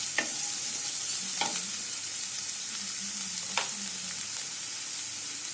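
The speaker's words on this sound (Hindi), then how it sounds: "उसमें रेड चिली पाउडर, गोभी और शिमला मिर्च, इसे अच्छे से मिक्स करते हैं।" Red chili powder, cabbage and capsicum being stirred in a pan over a soft frying sizzle, with a few sharp scrape strokes of the spoon spaced a second or two apart.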